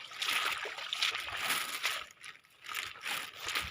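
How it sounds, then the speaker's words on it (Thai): Water trickling and sloshing outdoors, likely around a paddy or pond area where fertilizer was set out, a steady close wet hiss with uneven surges and no talk. "มีน้ำไหลรวงเลย"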